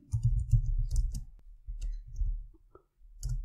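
Keys clack on a computer keyboard in quick, irregular clusters of light clicks with brief pauses, close and moderately loud over a low background rumble.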